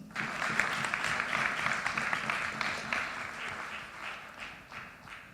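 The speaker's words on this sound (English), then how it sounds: "Please join me in a hearty round of applause for the entire Enfield team." Sustained audience applause at a Royal Enfield press conference in Delhi, steady dense clapping from a sizeable crowd lasting the whole stretch at a fairly even level.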